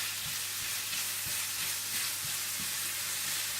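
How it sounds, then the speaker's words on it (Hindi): Grated carrots frying over low heat with sugar and ground cardamom give a constant close sizzle, with soft regular scrapes of a spoon stirring through the pan. "गाजरों को हल्की आंच पर रखकर भूनने के बाद आप इसमें डाल दें चीनी, पिसी हुई इलायची"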